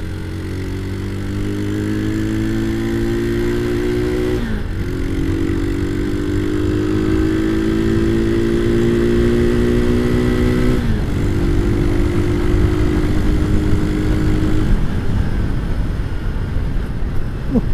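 Motorcycle fitted with a Scorpio aftermarket exhaust revs up close and loud, holding long sustained revs with brief drops between them, with no talking over it.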